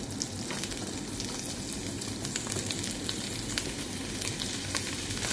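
Onions sizzle hard in melted butter in a pan for chicken menudo, giving a loud, dense, continuous crackling hiss up close with fine spattering pops throughout and no voices.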